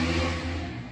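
A passing motorcycle outside drones as a steady engine hum with low harmonic tones, loud and close for a single second.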